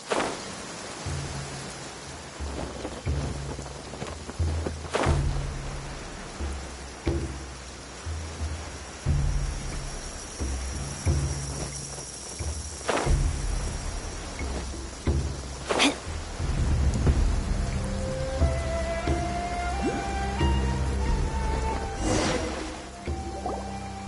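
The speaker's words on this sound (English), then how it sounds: "always rains when I go on an adventure." Steady rain hisses in Genshin Impact, with scattered sharp cracks of thunder and a low rumble. A gentle melodic game tone rises near the end.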